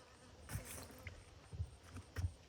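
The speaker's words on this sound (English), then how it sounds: "What kind of bee are you? Little honeybee. One of our honeybees." A honeybee buzzes close by in a vegetable garden, its faint, wavering hum swelling in short passes over a quiet outdoor background.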